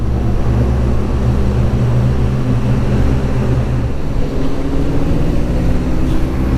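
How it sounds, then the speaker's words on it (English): Motorcycles roar inside a road tunnel with clutches pulled and throttles dumped, a dense, loud, echoing exhaust drone that holds steady and close throughout. "the Danish boys are doing their usual tunnel exhaust acceleration, where they pull the clutch in and dump the throttle"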